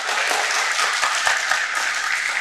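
Applause from an audience at a graduation event, a steady wash of many hands clapping loudly and evenly for a couple of seconds with no voices over it.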